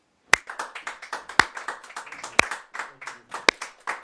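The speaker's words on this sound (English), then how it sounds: "No, stop clapping." At a talk-show taping, the audience claps in a sparse, uneven pattern: a few loud, sharp claps land about once a second among quicker, softer claps, all in a quiet room.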